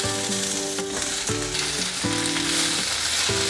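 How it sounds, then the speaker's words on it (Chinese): Fried tofu puffs hit a hot pan and sizzle loudly and steadily up close, with a sustained frying hiss and low musical tones running underneath. "接着放入油豆腐"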